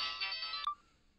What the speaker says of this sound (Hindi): फोन। हाँ, घंटी जा रही है।